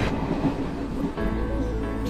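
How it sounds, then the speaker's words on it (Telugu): A train pulls in during a Telugu film scene, a steady, loud rumbling roar with a slight shift in tone midway as the cars roll closer. "అది ట్రైన్ వచ్చేసింది."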